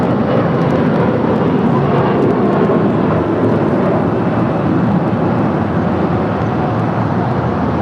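American Airlines A321 airliner taxiing at Los Angeles International Airport, a loud, continuous broadband jet engine roar that stays steady and close throughout with no voices.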